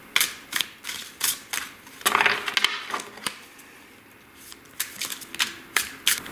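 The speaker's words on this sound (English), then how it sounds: "So we're just shuffling the tarot cards over here." Tarot cards shuffled by hand, crisp riffling bursts and taps in uneven clusters, close and fairly loud with short pauses between.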